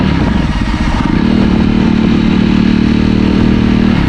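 A 2020 Jawa Perak 334cc motorcycle engine runs loud and close, a steady low rumble with a rhythmic mechanical throb that holds without pause.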